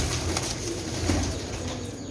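Pigeons from a batch of birds in Jhelum coo softly, with a rustle of wings, under a steady noisy background.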